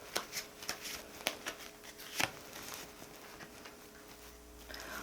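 Tarot cards are shuffled and drawn, giving soft close taps and a few sharper flicks scattered irregularly through a quiet room, with no talking.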